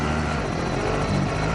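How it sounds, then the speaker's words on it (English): Extraction helicopter in a video game, a steady rotor drone filling the short clip while voices talk over it. "Extraction helo is exiting the AO"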